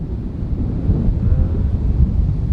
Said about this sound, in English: Ooh, wind's swirling now.